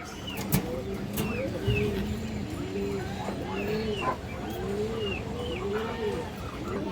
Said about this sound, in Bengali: এগুলো দর্শক পাল্লা লাইনের কবুতর, পাল্লা খাওয়া কবুতর